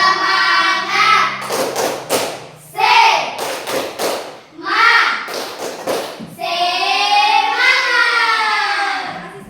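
A classroom of children performs a rhythmic spirit clap, loud sharp claps in patterned bursts alternating with the group chanting and speaking together.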